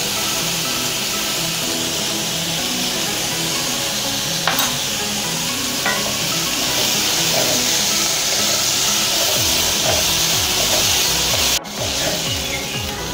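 Onions with salt sautéing in a pan for tomato kurma, a steady sizzle with rhythmic scraping and stirring strokes running throughout, loud and close, with a couple of brief clinks.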